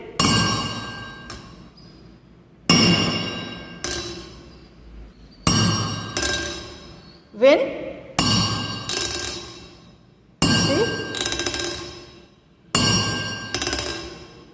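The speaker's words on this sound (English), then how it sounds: "This vibrating tuning fork, when it is striking, when it is touching this tiffin box, it is producing some sound." A vibrating tuning fork touched against a metal tiffin box gives about seven separate loud metallic clangs, each ringing and fading over roughly two seconds, with near silence between them.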